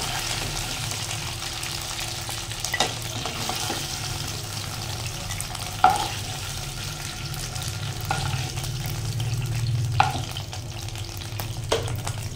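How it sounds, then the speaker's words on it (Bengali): Chicken pieces shallow fry in oil in a pan for a hot butter garlic chicken dish, giving a steady, even sizzle. Occasional clinks and stirring knocks sound over it, with no voices. "চিকেনগুলো এখানে শ্যালো ফ্রাই হয়ে গেছে"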